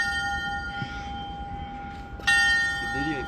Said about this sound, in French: il faut même sonner la petite cloche.